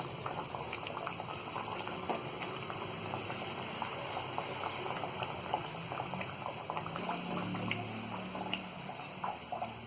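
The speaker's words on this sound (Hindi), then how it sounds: "और इसी तरह हम पलट पलट कर गोल्डन ब्राउन होने तक इसे फ्राई कर लेंगे।" Semolina mathri deep-frying in hot oil gives a steady, dense bubbling crackle with scattered pops, close and continuous throughout, with no voices.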